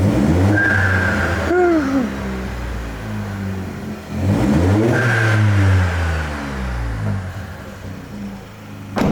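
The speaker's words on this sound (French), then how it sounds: "On entend un petit peu la petite dump qui commence à décharger." A tuned VW Up GTI 1.0 with a big turbo revs; its dump valve releases with a brief hiss and whistle twice, between rising and falling engine sweeps, close and loud.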